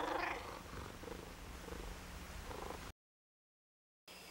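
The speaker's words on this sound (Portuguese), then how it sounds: "Este é meu gato, Marchuk." A cat purrs close by in a soft, steady rumble for about three seconds before cutting to silence, then resuming briefly.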